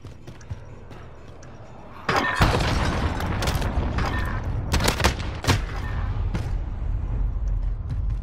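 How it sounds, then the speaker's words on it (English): Cruise missile strike in Call of Duty Modern Warfare: a heavy blast erupts into a rumbling barrage of booms and sharp cracks of gunfire, loud and sustained, with a soft voice briefly audible. "Enemy cruise missile incoming."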